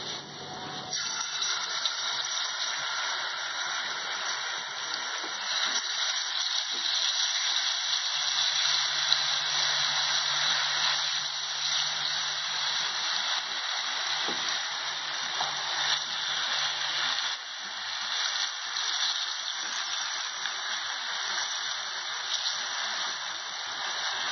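Fish frying in hot oil gives off a steady, close sizzle and hiss that holds on evenly throughout, with no talk over it.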